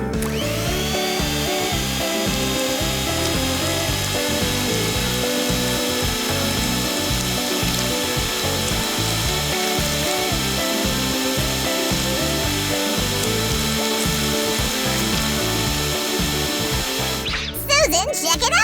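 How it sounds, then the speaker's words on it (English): An electric mixer beating cake frosting in a kitchen runs with a loud, continuous motorized whir and rhythmic chugging. It cuts off abruptly near the end. "Let's mix the frosting up."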